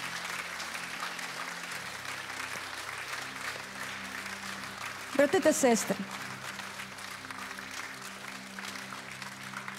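A church congregation claps steadily as people walk out to the foyer, a soft, continuous patter of applause with a voice briefly speaking over it midway.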